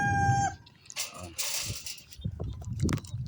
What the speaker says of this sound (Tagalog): ang dami po diyang mga manok guys